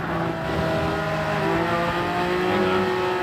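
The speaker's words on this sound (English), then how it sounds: "Car volume too loud." A racing car engine in Gran Turismo 7 roars steadily at high revs, a sustained buzzing drone with shifting pitch, no talking.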